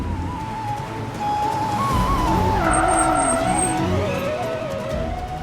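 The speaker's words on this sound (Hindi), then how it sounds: "ड्राइवर, गाड़ी रोको।" A car brakes hard on the road, tires squealing in a long wavering skid over the engine noise before it comes to a halt.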